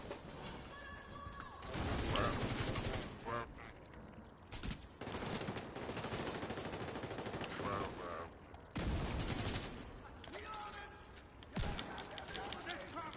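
Bursts of automatic and single-shot gunfire from The Division 2 video game repeat across the clip, loud and dense, with a player's excited voice talking over the shooting.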